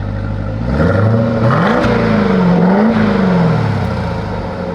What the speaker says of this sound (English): Give it a rev.